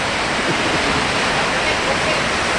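Heavy rain pouring steadily, a dense, loud, unbroken hiss close to the microphone with no pauses.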